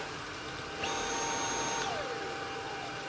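An old Dyson V8 cordless vacuum cleaner switches on and runs with a steady, fairly quiet motor whine and airflow hiss, its pitch settling and dropping slightly partway through, heard alone without talk.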